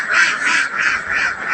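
Laying ducks on a farm quack in a rapid, rhythmic chorus of repeated nasal calls, loud and close, with no talk over them.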